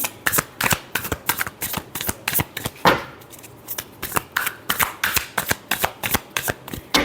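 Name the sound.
shuffling tarot cards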